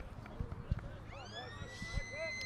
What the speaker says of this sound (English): Siren sounds here at South Gawler.